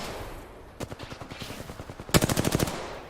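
Rapid automatic Flatline rifle fire in the Apex Legends video game comes in two bursts of evenly spaced, punchy shots, with the second burst louder and denser, over steady game background noise.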